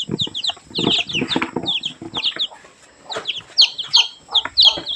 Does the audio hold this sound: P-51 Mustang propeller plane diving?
no